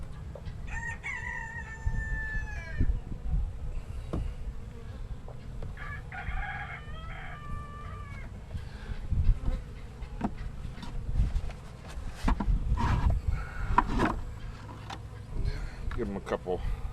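Honeybees buzzing around an open nuc hive frame, a soft continuous drone close by, with a rooster crowing twice in the background and a person talking over it.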